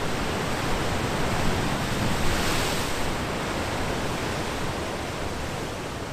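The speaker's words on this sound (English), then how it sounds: "I've come over to the other side of Brothers Point, where all the waves are actually coming from." Ocean waves crash continuously against the wild, exposed shore of Brothers Point on the Isle of Skye, a loud, broad roar of surf mixed with wind buffeting the microphone.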